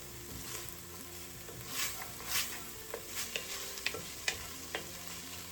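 Garlic with onions sizzles gently in a hot pan whose heat has just been turned off, with a steady low fry and a scattering of sharp spatula taps and scrapes, close up and without speech.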